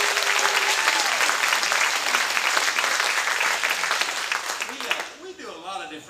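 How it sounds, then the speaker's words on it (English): A church congregation claps their hands in a loud, sustained burst at a Sunday service, then stops abruptly as a voice and music take over near the end. "If you believe He lives, give Him a hand clap."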